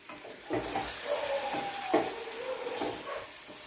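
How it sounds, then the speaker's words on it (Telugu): Ground masala paste with water is stirred into a stuffed brinjal curry in a pan, producing a continuous sizzle with soft scraping strokes of the spoon every second or so, and no talking. "ఇదంతా ఒకసారి కలుపుకుందాం."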